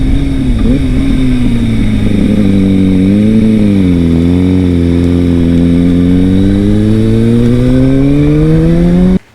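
A Kawasaki ZX6R sport motorcycle engine runs loud and close, holding a steady mid-range drone that wavers slightly up and down in pitch before cutting off abruptly at the end.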